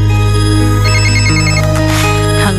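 A telephone ringtone rings on an incoming call during a Spanish-language morning radio prank, a loud, steady electronic melody with repeating tones filling the whole moment, with no talking over it.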